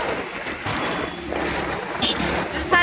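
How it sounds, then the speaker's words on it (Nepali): Strong wind roars across a hilltop at Nandi Hills near Bangalore, a steady, loud rush of buffeting air that fills the whole span with a brief higher whistle near the end. "यो हावा के साह्रो आएको"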